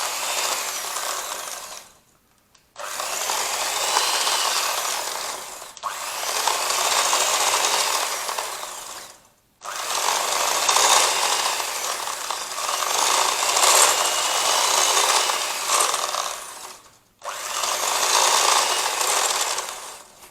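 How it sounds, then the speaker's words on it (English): An electric hand whisk beats butter and sugar together in a bowl, a loud, close, continuous whirring buzz running in long stretches broken by three brief pauses. "we're then going to combine our sugar and our butter. I'm going to use a hand whisk."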